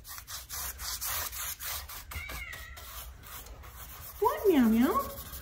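A cat in a workshop gives one loud, drawn-out meow near the end, after a stretch of rhythmic rubbing or brushing strokes and a soft brief chirp.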